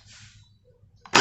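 A HK416 W12 water gel blaster toy fires a single sharp shot near the end, loud and close after a near-silent pause.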